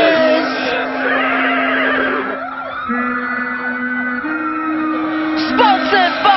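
Horses neigh and whinny loudly, several long shrill calls layered over a sustained music backing with a low drone, from a police brutality protest music track.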